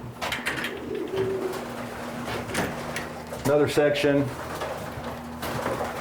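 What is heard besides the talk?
racing pigeons cooing in a loft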